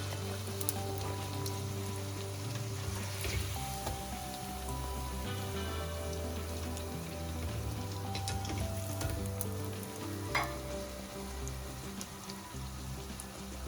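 Bhature deep fry in hot oil, giving a continuous bubbling sizzle with crackling pops, steady and close throughout with a low hum underneath.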